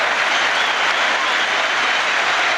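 Dense, steady stadium applause after a Manchester United hat-trick goal against Newcastle United in the Premier League, with thousands of hands clapping at once in a continuous, loud, even wash of noise.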